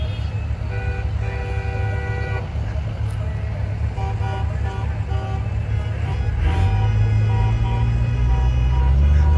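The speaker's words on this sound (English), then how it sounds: "It's a very beepy truck parade," Trucks in a street parade sound repeated horn blasts, several long and short honks in bursts over rumbling engines, with a deep engine roar swelling louder toward the end.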